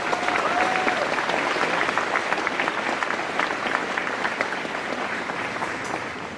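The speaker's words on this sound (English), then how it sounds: "Join me in a round of applause" A large audience at a commencement ceremony claps in sustained, even applause, a dense hall-filled patter that holds steady and then slowly tapers toward the end.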